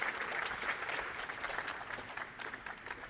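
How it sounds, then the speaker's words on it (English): Steady applause from an audience at a 5G AR hackathon final, a dense wash of clapping that holds for a few seconds at moderate volume. "A huge applause to Stefan from NanoGiants."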